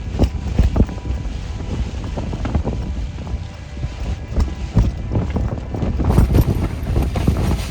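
Strong wind buffeting the microphone outdoors in misty, cloudy Iceland, a loud continuous roar with gusting rumble throughout, no voices.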